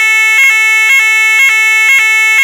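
An ESSER fire alarm sounds loud and close, a steady electronic tone broken by regular bright pulses about twice per second, repeating evenly and alone.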